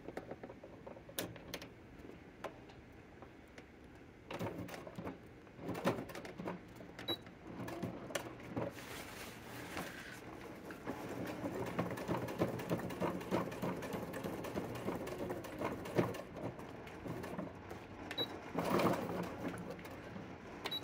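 Sewing machine stitching a welt pocket with flap on a trench coat, a mid-level mechanical whir of running stitches with some clicks and pauses, no talk.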